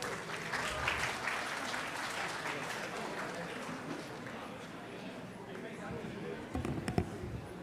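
Applause rolls through a university convocation hall for a graduate, moderately distant and even, with voices murmuring underneath and a few louder claps near the end.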